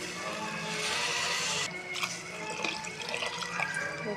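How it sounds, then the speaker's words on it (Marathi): Water is poured into a pot of rice for keema ball biryani, a steady close splashing stream that stops partway through, followed by soft drips and bubbling. "पाणी घालून घेऊया आता."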